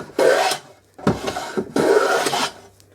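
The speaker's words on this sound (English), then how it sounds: "lovely old jack plane. Look at that sound, folks." Three long rasping strokes of a hand plane shaving wood, each a close, scratchy swish with short pauses between, no talking.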